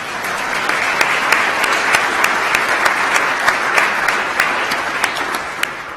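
An audience at a pro bono legal awards ceremony claps steadily and loudly for an honoree, a sustained wash of applause with sharp individual claps standing out, with no voices over it.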